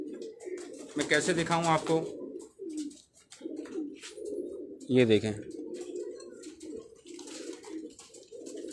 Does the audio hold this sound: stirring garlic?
no